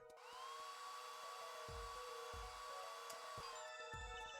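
A hair dryer drying plaster in the Apollo Justice: Ace Attorney video game blows with a steady whirring hiss, joined by a rising whine and a few soft thumps, then shifts pitch near the end.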